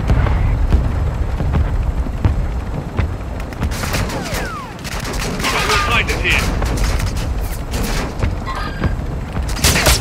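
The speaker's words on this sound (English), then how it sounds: "Hostile mortar strike incoming." A hostile mortar strike lands in a Call of Duty game amid dense, loud battlefield gunfire and booming impacts that roll on without a break. A radio-style voice is heard over the din.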